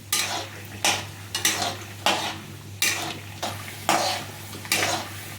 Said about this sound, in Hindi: चलाते हुए बीच बीच में मूंगफली भून लीजिए।